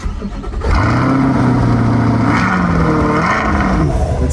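A Lamborghini tour bus's large engine cranks and catches, then settles into a loud, steady rumbling idle with slight revving, heard up close.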